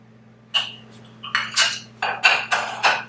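A kitchen knife cuts through food on a board, giving a series of crisp, close chopping and clinking strokes in an uneven rhythm, about six cuts over a few seconds, with no talk over them.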